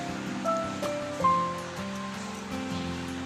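Marinated chicken goes into melted butter and oil in a pan, producing a broad hissing sizzle that swells in a couple of surges as pieces land, then settles into a steady fry with a faint hum beneath.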